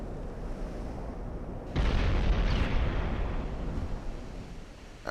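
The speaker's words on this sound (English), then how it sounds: "That was a nasty shell there." A heavy naval shell explodes in Ultimate Admiral: Dreadnoughts, a sudden deep boom that swells into a loud, rumbling roar and slowly fades over several seconds.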